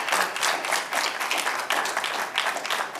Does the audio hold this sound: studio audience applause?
yes